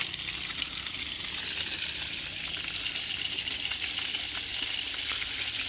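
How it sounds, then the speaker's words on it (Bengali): Water pours steadily to soak a stack of bricks at a house building site, a constant close hiss and splash that continues without a break and with no one talking. "তো আজকে ইটগুলোকে ভিজিয়ে নিচ্ছি"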